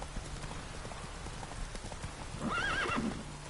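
Roach the horse from The Witcher 3 gallops with steady clip-clopping hooves and a brief whinny near the end, all under faint background ambience.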